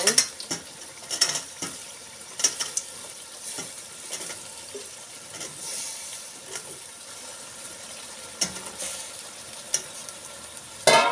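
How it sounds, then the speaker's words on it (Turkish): Potatoes and peas sautéing in a pan: a soft, continuous frying hiss under repeated clattering, scraping stirs that come in irregular bursts, close and fairly quiet. "Şimdi bir kavuralım."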